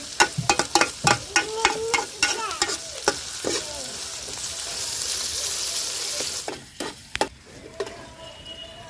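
A spoon knocks and scrapes repeatedly as ridge gourd curry is stirred in a frying pan, with a rising hiss of sizzling in the middle before the clatter returns, close and clear, no talk.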